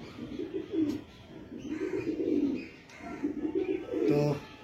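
Red-veined pigeons of an old-line breed coo in a low, repeated, throaty rhythm, several close bursts over steady background noise.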